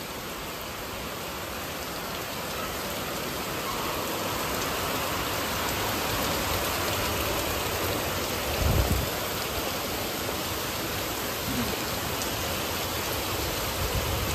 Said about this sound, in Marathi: तुफान पाऊस झालेला आहे